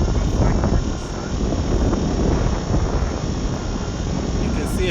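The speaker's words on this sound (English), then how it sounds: "I'm just looking, wherever I'm looking, that's where the airplane is flying." An FPV model airplane drones steadily overhead, a continuous buzzing motor sound that holds for several seconds with wind noise and a faint voice in the background.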